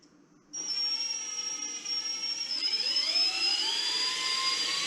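A high-pitched electric whine starts abruptly and holds steady for several seconds, its pitch shifting slightly partway through, close and fairly loud.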